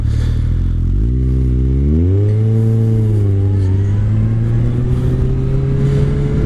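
A Kawasaki Concours 14 motorcycle with a Muzzy slip-on exhaust pulls away from a stop, its engine tone climbing through a gear, dropping, then rising again, loud and close throughout.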